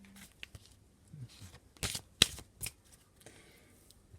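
Lenormand oracle cards are shuffled and cut in a quiet room, with a few soft riffles and slides and a sharper snap near the middle, then a lighter tap and brush afterward.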